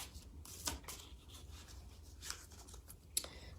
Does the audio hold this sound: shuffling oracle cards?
yes